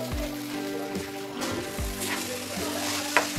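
A dry vegetable chop spice mixture with beetroot, potato and coriander leaves is stirred in a pan, making a soft, continuous scraping and faint sizzle with a few spatula knocks.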